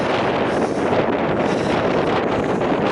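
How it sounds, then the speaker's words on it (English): Strong wind blows steadily across an open ridge at Granite Ridge Greens, making a loud, continuous rushing roar that buffets the microphone. No voices are heard. "Up on the ridge. You get lots of wind."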